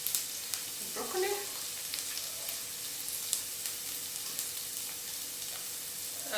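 Broccoli frying in a pan for an egg omelette on toast gives a dense, steady close sizzle, with a brief bubbling burst near the start that settles into an even crackle.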